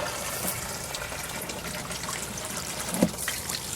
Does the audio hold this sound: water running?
yes